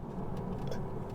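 A 2025 Tesla Model 3 Highland RWD accelerates hard from 0 to 60, giving a steady, close rush of road and tire noise with a low hum and no distinct engine note.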